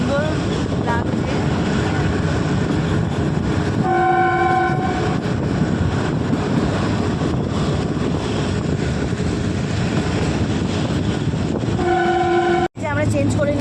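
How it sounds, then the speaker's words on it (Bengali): The Shivalik Express toy train runs with a continuous rumble and clatter of wheels on track, heard from on board. A horn sounds twice, briefly near four seconds and again just before the end. "ফার্স্ট টাইম আমি টয় ট্রেন চড়ছি"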